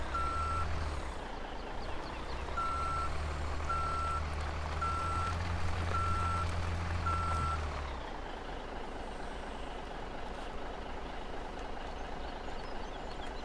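A truck in the farming game Farming Simulator 2017 backs up with a steady run of evenly spaced reversing beeps over a low idling engine rumble. The beeping stops after several seconds and the engine drone carries on alone.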